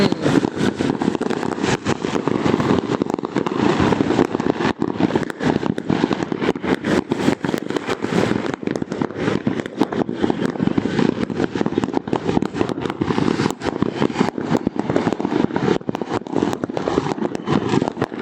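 Dense, continuous crackling and popping of New Year's fireworks going off, loud and unbroken for a long stretch, with a low rumbling roar underneath.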